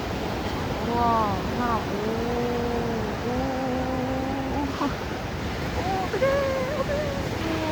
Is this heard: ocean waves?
yes